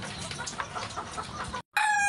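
Chickens in a farm coop, a steady din of clucking hens close by, followed after a brief cut by a loud rooster crow.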